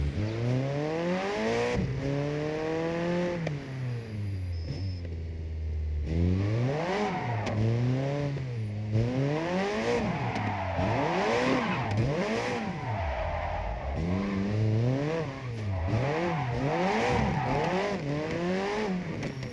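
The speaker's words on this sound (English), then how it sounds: "Because the car engine noises are quite loud." Several engines rev and whine continuously, pitches sweeping up and down through gear shifts, loud and electronic-sounding like a racing game with no talking, from the drifting game JDM: Japanese Drift Master on PS5.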